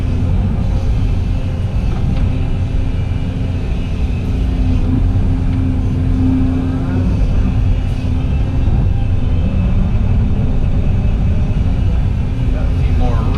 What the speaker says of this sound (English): I'm going to grab it with the excavator, take it down there to behind that pond dam